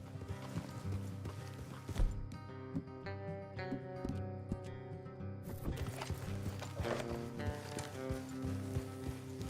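Horses galloping along a road in Red Dead Redemption 2: steady clip-clop of hooves running beneath a loud orchestral game score, with the footfalls partly masked by the music.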